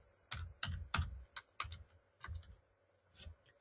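Someone types on a computer keyboard in a slow, uneven series of about eight close key clicks and taps with short pauses between, no voices.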